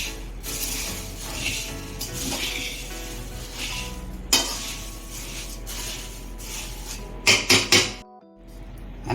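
A metal spatula mixing a hot pani puri flavoured snack in a pan, with repeated clinks and scrapes against the metal, several sharper knocks toward the end and no talk.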